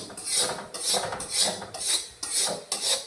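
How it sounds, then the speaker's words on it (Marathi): Chickpeas being stirred through hot sand in a pan to roast them, six rhythmic gritty scraping sweeps, each a loud rasping rush separated by brief pauses, close up. "परत एकदा आपण हे चांगले मिक्स करून दुसरे पण चणे टाकून घेतलेत मी"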